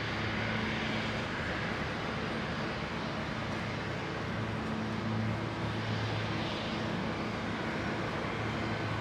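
Jet airliner rolling out along the runway after landing at Brisbane International Airport, a steady broad roar with low engine hum holding at a moderate, fairly distant level throughout.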